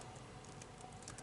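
Keystrokes on a computer keyboard while typing a long sentence into Notepad on Windows 11, a quiet, steady patter of clicks close by with one sharper tap near the end.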